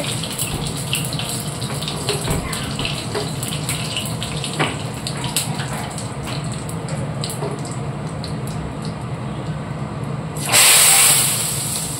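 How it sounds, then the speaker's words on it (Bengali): Oil spitting and crackling while dal is tempered in a home kitchen, a dense steady hiss and spatter with scattered pops, loud and close, ending in a brief sharper rushing burst. "ডালে ফোড়ন দিচ্ছে, এত তেল ছিটছে।"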